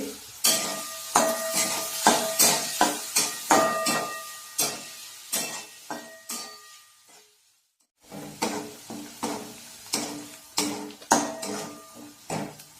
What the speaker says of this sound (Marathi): बारीक चिरलेला कांदा, आता हे सर्व व्यवस्थित परतून घ्यायचंय।